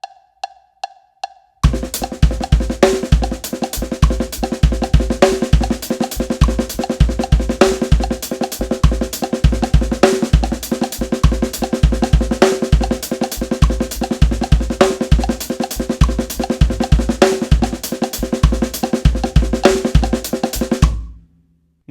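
Linear drum groove played on a kit at full speed, a fast, dense, unbroken pattern of kick, snare and cymbal strokes that runs loud and steady for about twenty seconds after a brief quiet lead-in, with no talk.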